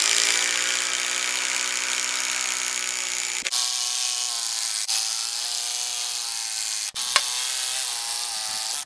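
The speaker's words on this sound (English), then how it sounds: "these are the timber screws that are going to allow us to have a very tight joint." A drill drives timber screws into a Simpson CBT4Z post connector, a loud continuous whirring that runs for several seconds, with brief dips and pitch changes between bursts and no talk.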